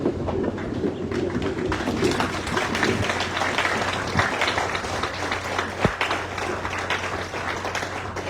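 Warm audience applause at a school centenary celebration, a dense and loud spread of clapping that keeps going steadily throughout with no talk.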